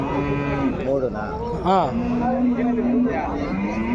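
Calves moo at the Punganur cattle market in short, bending calls that overlap, one louder bawl in the middle, with someone talking nearby over the lowing.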